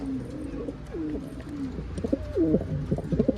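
A male pigeon, excited in breeding, coos in repeated throaty rolling phrases that grow louder toward the end, close, with other birds faint in the background.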